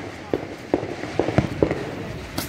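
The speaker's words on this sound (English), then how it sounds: "It just fireworks everywhere, y'all." Fireworks and firecrackers set off around a neighborhood on the Fourth of July crack in a string of sharp, fairly distant pops with a mild outdoor background.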